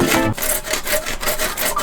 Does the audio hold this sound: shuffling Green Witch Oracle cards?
no